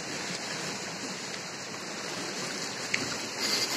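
Steady rain falling outdoors, a soft even hiss of drops with a faint splash or tick now and then, quiet and continuous throughout.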